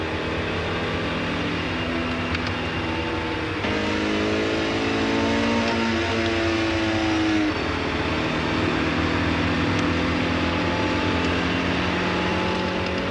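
A Volkswagen Group test car runs at high speed on the Ehra-Lessien test track, its engine droning loudly and steadily, with a rising, shifting rev tone in the middle as it accelerates, and no talking.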